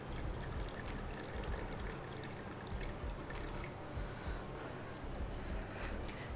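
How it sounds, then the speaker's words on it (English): Water trickling and pouring into a mocktail over crushed ice and syrup, a steady close splashing stream running throughout with no talking. "I am going to add in water now."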